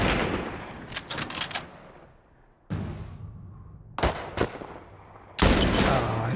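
Gunfire in The Last of Us Part II: a rapid cluster of shots, then a single crack, a pair of shots and a final heavy blast, each ringing out between quieter stretches of background ambience.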